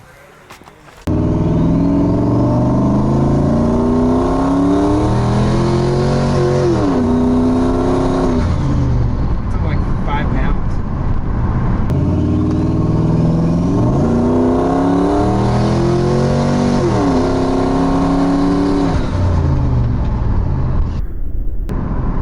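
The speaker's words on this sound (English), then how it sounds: "So it makes pretty turbo noises now." A turbocharged Ford Crown Victoria engine revs up and down repeatedly, loud and close, with rising and falling turbo whine and no talking over it.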